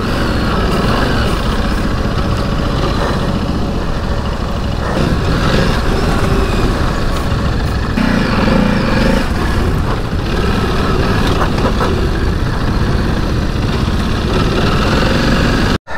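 A loud, steady engine drone runs at constant throttle from a Ducati DesertX Rally or Himalayan 450 Rally motorcycle during off-road trail riding, close and unbroken with heavy low rumble and no talk.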